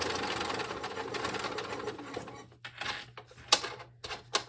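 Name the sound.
sewing machine stitching fabric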